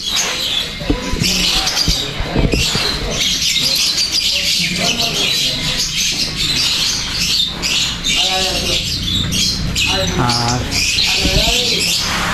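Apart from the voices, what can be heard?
silver pheasants calling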